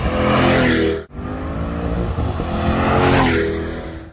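A 2020 Chevrolet Corvette C8 Z51 mid-engine sports car accelerates hard, its loud, steady engine roar rising in pitch across a few seconds with a brief cut near the start.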